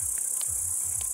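Grasshoppers chirp by a lake in Karelia, a steady high shrill buzz with brief louder chirps and low distant thumps beneath.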